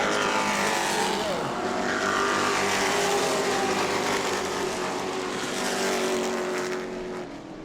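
Race cars roar past during a heat race at New Smyrna in the Hoosier Series, a loud, sustained engine drone that swells and holds, then fades slightly at the end.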